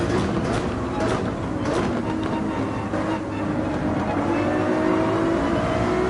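F1 race cars in a video game roar continuously, their engine whine rising steadily in pitch as they accelerate, loud and close with talk underneath.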